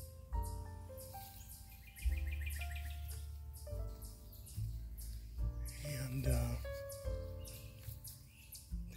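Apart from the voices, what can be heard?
birds chirping in the woods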